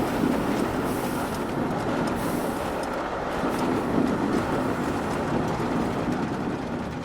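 A roller coaster lift hill runs in the Planet Coaster video game, a continuous loud mechanical rumble with faint clattering, steady and unbroken throughout.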